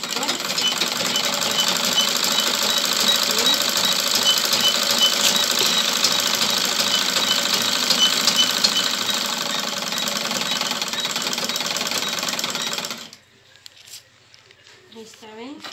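A domestic sewing machine running steadily for about thirteen seconds as it stitches a fabric cut, loud and close, with slightly loose stitching from a faltering machine; the motor stops abruptly and faint room sounds follow.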